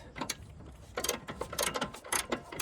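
A 17mm socket wrench tightens the nut on a car's sway bar link, a ring spanner holding the other end: a quick run of close, sharp metallic ratchet clicks in short bursts with brief pauses between.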